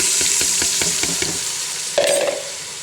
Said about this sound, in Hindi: अब हम इसमें भीगी हुई दाल डालेंगे सारी